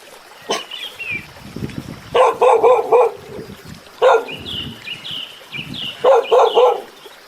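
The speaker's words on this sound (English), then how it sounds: "Dog." A dog barks in short clusters of three or four quick barks, loud and near, separated by quieter yips and background shuffling.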